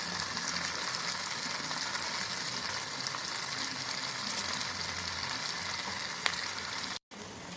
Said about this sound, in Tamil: இப்போ இதை பொரிச்சு எடுக்க போகிறோம்